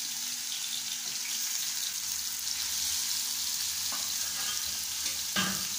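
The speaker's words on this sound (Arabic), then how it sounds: "هنحط الاول اللحمه المفرومه، شايفين صوت الطاسه او ليه عملت الصوت ده؟" Minced meat sizzles in a preheated frying pan, a steady loud hiss with crackling throughout and a couple of brief clinks of utensil or pan near the end, with no talking.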